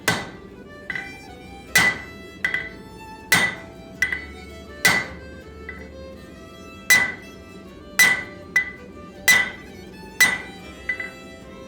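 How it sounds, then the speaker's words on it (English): A hammer strikes hot steel on an anvil while set downs are forged into the pole of a folded axe. The ringing metallic blows land one at a time at a steady, unhurried pace, loud and close, with no voices. "I then flip the bar and begin making the set downs on the pole of the axe."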